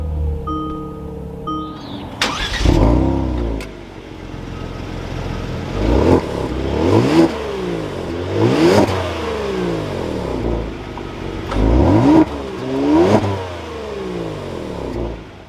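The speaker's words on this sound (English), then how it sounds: "we can go ahead and fire it up." A 2022 Kia Stinger GT2 RWD engine cranks and fires up, then is revved repeatedly in short rising and falling bursts, loud and close with a settled idle between blips.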